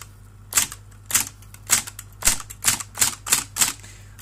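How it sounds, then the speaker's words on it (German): Keys strike a Scheidegger Electric TM 2000 electric typewriter about eight times in an uneven rhythm, each a sharp, close clack. A steady low motor hum runs beneath the strikes. "Diese Walze dreht sich jetzt die ganze Zeit und wenn ich auf eine Taste drücke, dann hakt das ein und dann knallt es etwas."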